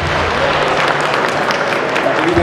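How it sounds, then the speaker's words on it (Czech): An audience at a university freshman matriculation ceremony claps in a dense, continuous patter that fills the room, with some voices mixed into the crowd noise. "Výborne, potlesk."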